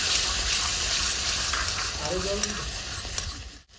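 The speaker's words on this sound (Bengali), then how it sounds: "হালকা একটু আবার নাড়াচাড়া করতে হবে এখানে" Rohu fish posto curry with poppy seed paste is stirred in a pan, giving a loud, continuous sizzle and bubbling with a brief low voice partway through.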